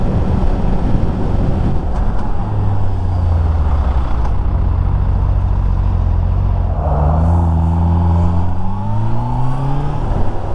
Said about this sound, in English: kilometers and kilometers of trucks